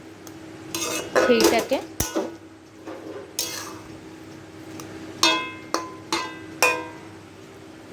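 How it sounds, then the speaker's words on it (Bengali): A metal spatula stirs food in a kadai during festival cooking for Janmashtami, giving a run of clinks and scrapes that start busy and thin out into a few separate sharp knocks, close by, with a brief spoken word. "তো আমি এখানে একটু নেড়ে দেব কড়াইয়ের সাথে"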